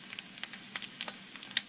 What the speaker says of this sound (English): you cook a fried egg on it without it sticking